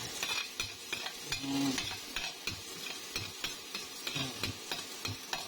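Sautéing in a pan until golden brown while making sotanghon, a steady close sizzle with repeated rhythmic stirring scrapes of a utensil against the pan, no talk.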